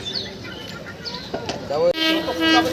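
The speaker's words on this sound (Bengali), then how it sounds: "এই যে ট্রেন ঢুকে গেছে আই দেখো ট্রেন ঢুকে গেছে আসছে ট্রেন" A train approaches with rumbling and squealing metallic tones, birds chirping nearby and faint voices in the background.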